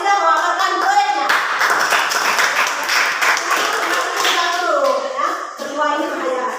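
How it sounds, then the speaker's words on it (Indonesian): A classroom of students claps for a group that has just presented their project, with dense overlapping handclaps running throughout and teacher or student voices talking over the clapping. "tepuk tangan untuk kelompok 2 yang sudah memaparkan proyeknya"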